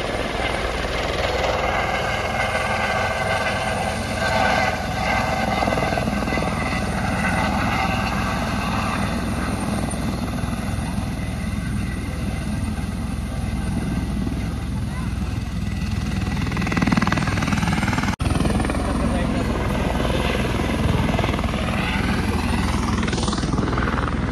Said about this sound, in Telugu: ఆకాశంపై ఎక్కడైతే ఇప్పుడు ల్యాండ్ అవుతుంది హెలికాప్టర్ చూసారా